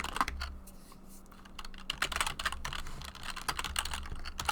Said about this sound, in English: He's still typing.